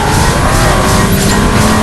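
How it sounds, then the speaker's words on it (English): A Nissan Z sports car without active exhaust roars loudly on a track, its engine and exhaust producing a steady, close, sustained drone with layered harmonics and no talking. "I like the noise that this car is making"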